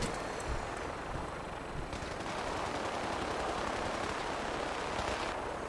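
Steady, dense automatic gunfire from a video game roars for the whole stretch, a sustained wash of rapid shots with no clear pauses.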